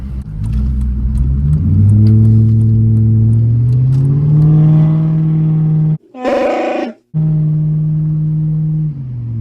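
A Lincoln hot rod's engine revs hard through a throaty exhaust, rising and holding a deep drone around 3,000 RPM, briefly interrupted by a sharper burst, then settling into a steady rumble.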